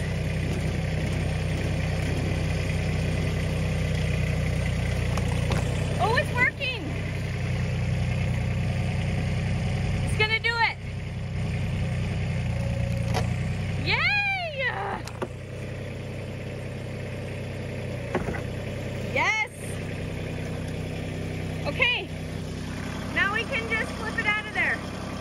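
A vehicle engine hums steadily while driving toward a house at an Alaska cabin in deep winter, a low continuous drone under intermittent talk.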